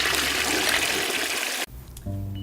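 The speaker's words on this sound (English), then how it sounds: "you get a big flush." A toilet flushes with a loud, close rush of water that cuts off abruptly, followed by quieter sound with a low hum.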